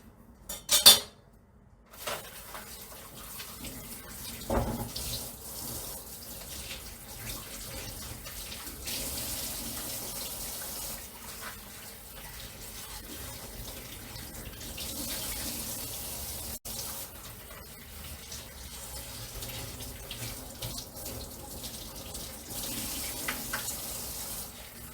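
Tap water runs steadily into a kitchen sink while garlic is washed, a continuous moderate rush with a few light clinks and handling noises near the start.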